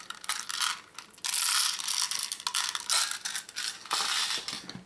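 An airsoft gas pistol magazine being emptied, a Jag Precision x Taran Tactical JW3 Combat Master, gives close, loud bursts of hissing gas that come and go in several pulses over a few seconds, with a brief spoken word.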